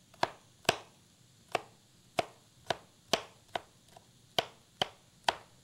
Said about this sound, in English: I'm going to keep chopping